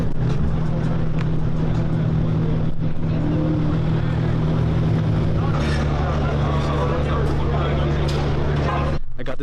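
Cars race at a crowded gas station car meet in Arizona, a continuous roar of engines and a loud rumble filling the scene, with people talking over it.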